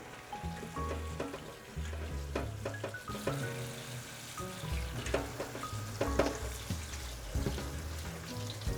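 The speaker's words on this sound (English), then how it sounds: "We're just rinsing it off, trying to get all the dirt off." Cauliflower is rinsed under running water to wash off dirt, giving a continuous close splashing hiss broken by irregular clatters and knocks as the florets are handled.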